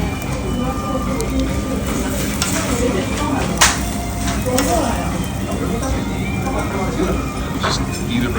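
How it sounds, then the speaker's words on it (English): A small spatula scrapes monjayaki across a hot restaurant grill in Tokyo, giving a steady, close scraping and stirring over a continuous sizzle, with a brief louder clink partway through. "And then you scrape it off with this little thing."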